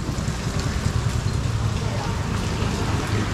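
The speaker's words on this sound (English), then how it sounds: "It's raining, see, heavily." Heavy rain during a street stop in India: a dense, steady hiss and patter that fills the whole moment at constant loudness, with no clear voices standing out.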